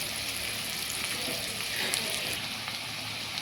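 Crab pieces frying in an oiled pan for a spicy crab kosha, a steady, close hiss and crackle of sizzling oil with faint stirring, no talking.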